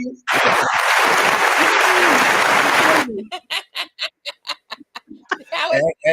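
Clapping in a soul line dance setting: a loud burst of group applause lasts about three seconds and cuts off, followed by a run of separate rhythmic claps at a steady count, with a voice near the end.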